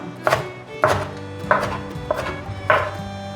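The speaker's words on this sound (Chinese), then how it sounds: "把红甜椒切成末状" A knife minces red bell pepper on a cutting board in a vegan home kitchen: five quick bursts of close, crisp chopping strokes with short pauses between them, and no voices.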